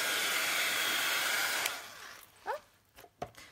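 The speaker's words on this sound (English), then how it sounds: "we have to dry it with the heat gun" A heat gun blows a steady, loud broadband hiss as it dries mixed-media craft paint on a galaxy-themed box, running for about 1.7 seconds before cutting off, followed by a few faint clicks and soft knocks.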